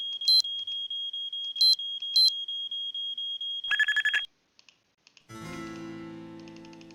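Nancy Drew game alarm: a shrill sustained electronic tone with sharp repeated beep bursts, loud and close, then a brief cluster of harsh pulses before cutting out and giving way to other game sounds.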